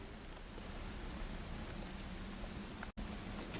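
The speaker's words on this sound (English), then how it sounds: "and then the rain really starts to pick up" Steady rain falling in an atmospheric soundscape, a dense even hiss of drops with a low rumble beneath, constant and fairly close, with a single brief dropout near the end and no talking.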